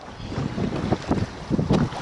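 Gusty 10-mile-an-hour wind buffets the microphone on a fishing boat at sea, with choppy 2-foot waves slapping the hull in uneven bursts, loud and close, with no talking.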